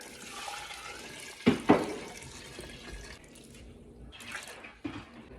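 Tap water runs into a cooking pot of vegetables for seafood gumbo, a faint, uneven splashing stream with a couple of brief louder gurgles and clanks near the start.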